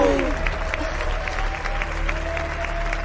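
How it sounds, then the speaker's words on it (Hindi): Sustained audience applause for a contest winner at a staged game show, steady clapping throughout with a faint tonal background. "तो आप सब इनके लिए तालियां बजाएं, ये जीत गए हैं।"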